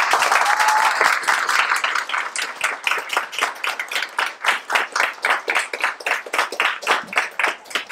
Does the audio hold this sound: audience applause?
yes